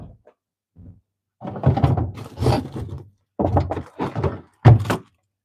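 Fridge door being opened and shut while groceries are put away: a run of close, hollow thunks and rattles in irregular bursts, ending on a firm closing thud, with no talk over them.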